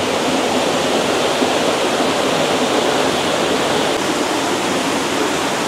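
Makeregen Waterfalls roars with a constant, dense rush of falling water that fills the whole clip without a pause.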